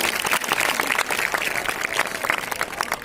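Loud, steady applause from a school audience at a prize-giving ceremony at an inter college, honouring a student called up for an award, dense clapping sustained for about three seconds.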